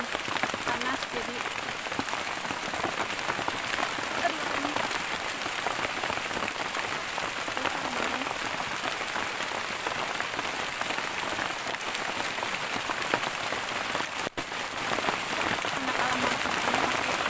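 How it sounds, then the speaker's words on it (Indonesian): Heavy rain pours steadily over a bushcraft camp in the forest, a dense continuous hiss with no break for the full length, loud and close all around. "Aku gak tau kalau bakal hujan"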